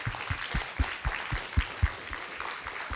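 An audience claps after a keynote talk at the TUM Festival of Learning and Teaching 2024. The applause is fairly faint and thin, with distinct individual claps thumping steadily for three seconds.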